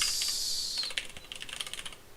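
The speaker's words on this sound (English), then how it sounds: "I'm amazed I'm not typing everything wrong" Rapid keystrokes on a computer keyboard while coding a C++ game engine during a live stream, a steady patter of close clicks over a faint high background hiss, with no voices.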